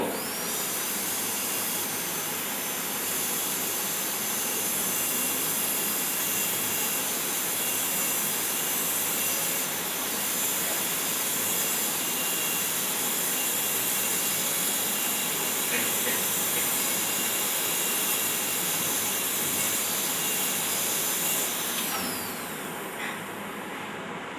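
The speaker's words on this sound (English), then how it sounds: "take your burr and go like that" A high-speed dental bur drills a tooth during all-ceramic crown preparation, giving a steady, close, high-pitched whine with airy hiss that runs almost unbroken and cuts off near the end.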